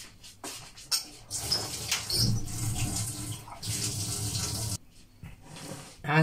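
Warm water pours in uneven bursts into a bowl for kneading Afghan bread dough, splashing and gurgling close by, with brief pauses between pours.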